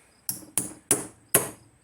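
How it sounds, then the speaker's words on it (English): Five sharp, evenly spaced metal hammer blows on a loose aftermarket fork boot from a Yamaha TW200 motorcycle, each strike ringing briefly before the next, close and clear with no talk. "you can start hammering it a little bit"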